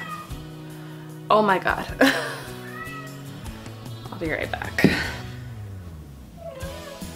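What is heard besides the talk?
cat meowing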